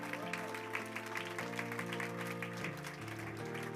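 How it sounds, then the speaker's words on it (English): A live church congregation clapping their hands, a dense continuous patter under sustained music with strong tonal chords and a voice in the mix. "Somebody stand up and clap if you learned a lot today."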